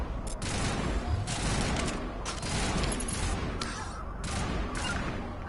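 Dense, sustained gunfire fills a firefight in Mass Effect 1 Legendary Edition, a loud, continuous barrage of overlapping shots and blasts with no break across the whole stretch.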